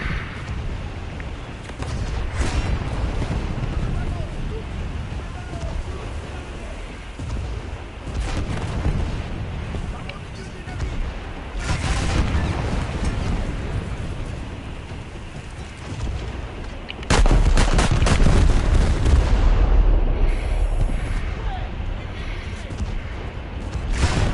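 Main guns firing in War Thunder, sounding as heavy booming blasts with long rumbling tails and a dense roar, one especially loud shot near the end, while a voice talks faintly under the din.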